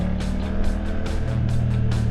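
Loud, steady engine drone from a BMW F900R motorcycle fitted with carbon fairings, a continuous low rumble with slight pulsing swells throughout, close to the listener and with no talk over it.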